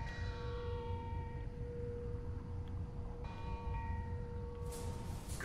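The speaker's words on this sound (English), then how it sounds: "The original is some sort of bell." A bell tone in the video game Marvel's Spider-Man: Miles Morales, sustained ringing partials that hold and shift over a low game ambience, with a brief brighter burst near the end, no talking.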